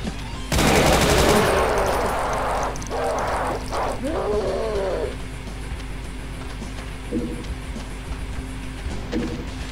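A Pinky demon attacking in Brutal Doom, a loud burst of gunfire and growling roars up front, then fading snarls and a few quieter thumps in the game's background hum.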